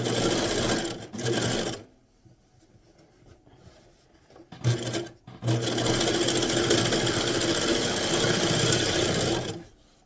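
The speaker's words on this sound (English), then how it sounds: "you're gonna run it through your serger" A serger overlocker stitching a fabric edge runs in loud, fast mechanical bursts: two short runs, a pause, then a brief start and a long continuous stitching run before stopping.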